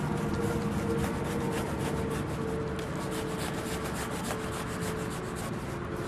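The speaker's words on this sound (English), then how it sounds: "it's important not to let this branch tear, so you want to hold the limb above where you're cutting." A branch on an old, neglected, overgrown fruit tree being cut while pruning in early spring: a steady, continuous rasping saw stroke, close and fairly loud, running without pause and with no talk.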